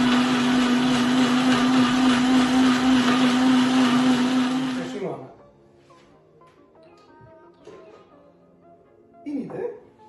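A blender runs loud and steady for about five seconds, whirring through frozen strawberries and cocktail ingredients, then cuts off, leaving quiet room noise with a few faint knocks and clatters.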